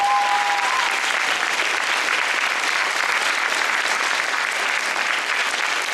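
An audience fills the room with steady, dense clapping for about six seconds at constant loudness, with a brief tonal whine at the start.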